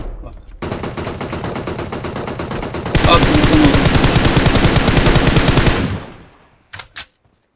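Rapid automatic gunfire in the PUBG Mobile game: long unbroken bursts that grow louder and denser midway, then cut off and end with two short, separate shots.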